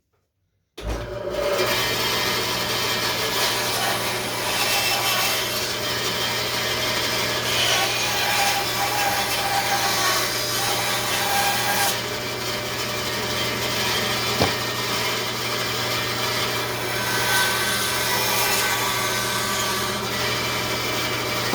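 A Rikon bandsaw cuts wood in a wood shop, a loud continuous whirring rasp that starts abruptly and holds steady through the cut, with no talking.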